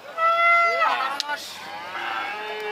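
Cattle moo loudly at a bull market in Dumuria, a long nearby bellow rising and falling, with people talking in the background.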